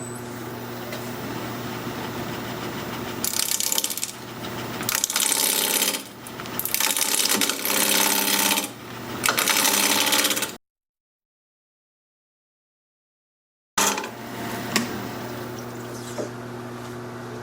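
A lathe turning a cherry live-edge mini-bowl hums steadily while the tool bites in repeated harsh, scraping bursts. The sound drops out to silence for a few seconds, then the turning resumes.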